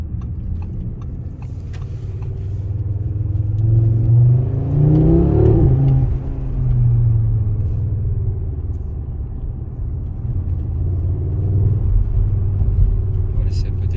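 Audi RS3 8Y engine revving and pulling through gear changes on the road, a steady loud in-cabin rumble that swells mid-way with rising engine tones, while someone talks over it.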